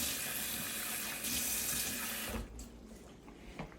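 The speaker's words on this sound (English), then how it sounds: "So I add a little bit of water" Water runs steadily from a tap for about two and a half seconds while a cook adds it to stiff pounded yam to soften it, then cuts off, leaving quieter kitchen sounds.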